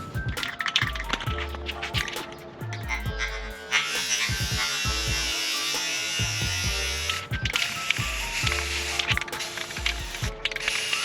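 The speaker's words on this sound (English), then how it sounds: "So we're just doing it light sprays, light layers until we get the look we want." An aerosol can hisses in long bursts while spraying candy red paint onto a Dodge Charger rear diffuser in light layers, broken by mechanical clicks and rattles between passes, close and loud.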